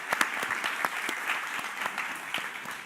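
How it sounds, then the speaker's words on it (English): An audience at a climate storytelling talk applauds to welcome a reality TV guest, a moderate crowd clapping steadily with a few sharp nearby claps standing out, continuous and fairly close. "Please give her a round of applause."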